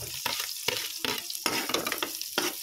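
Shrimp paste (alamang) sautéing with garlic in a pan, a steady close sizzle broken by repeated stirring scrapes in an uneven rhythm, with no talking.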